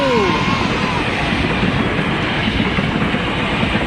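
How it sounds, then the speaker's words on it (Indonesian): A KRL commuter electric train rumbling past close by at speed, a loud continuous roar with rail noise and a faint whine, steady throughout. "Oh, ini ada kereta teman-teman."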